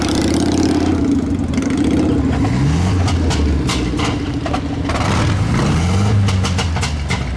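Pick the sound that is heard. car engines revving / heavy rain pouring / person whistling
car engines revving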